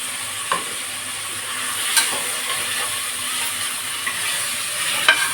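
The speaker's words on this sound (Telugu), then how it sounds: "పచ్చిమిర్చి, పుదీనా, సరే ఇవన్నీ వేసేసి మంచిగా కలుపుకోవాలండి." Green chillies and mint stirred in a hot frying pan for tomato rice give a steady, close sizzle, with a few sharp clicks and scrapes of the spoon against the pan and no talking.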